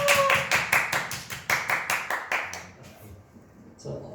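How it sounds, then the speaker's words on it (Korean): One person clapping loudly in a sparse room at a church high-school youth service, a string of about a dozen sharp, evenly spaced claps that slow and fade, with faint voices and a murmur behind. "박수를 쳐야 되는데 저 몇 명 없어서 제가 크게 치겠습니다."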